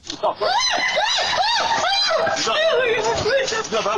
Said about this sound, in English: The woman screams as the man tries to protect her